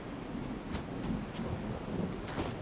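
Red storm in the video game Fallout 4, a steady low rumble of thunder and rain with a few faint crackling surges, continuous and fairly quiet throughout.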